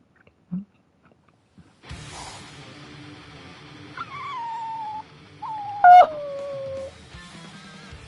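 A dog in the video game Bleach Rebirth of Souls lets out drawn-out, falling whines and a howl that rise clearly above a low ambient game background, with a short sharp yelp partway through.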